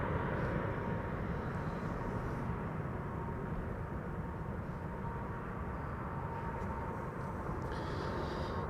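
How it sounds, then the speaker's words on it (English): Steady broadband roar of a Lufthansa Airbus A320 jet arriving at Amsterdam Schiphol from Munich, continuous and fairly distant, with no voices. "Lufthansa A320, flight 2304. That's what you're hearing."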